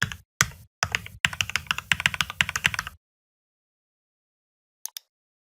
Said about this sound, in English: Enter your email address and click Continue.